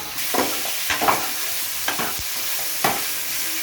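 Stuffed eggplants fry in hot oil with a constant close sizzle, punctuated by several scraping stirs and clinks of a spatula against the pan, without any talk.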